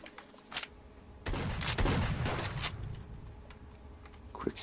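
Gunfire in the video game STALKER: Shadow of Chernobyl, a handful of sharp shots spread across the clip, several clustered in the middle over a rumbling game background.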